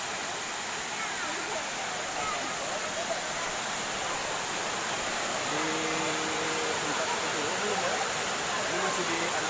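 A seven-tier waterfall, Batu Itam in Tapaktuan, South Aceh, gives a steady, loud, broadband rushing roar throughout, with a voice briefly audible over it near the end.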